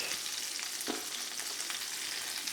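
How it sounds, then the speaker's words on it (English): Red and green chilies, onion and garlic sautéing in a pan, a soft continuous sizzle throughout with one brief clack of a utensil near the start, no voices. "I'll just let all that saute until the vegetables are nice and soft"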